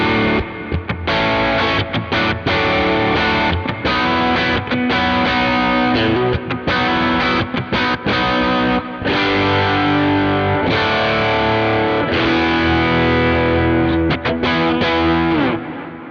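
Distorted electric guitar played through a Kemper amp profile with heavy delay and lush reverb, a loud, continuous stretch of chords and sustained notes with swirling repeats and no talking.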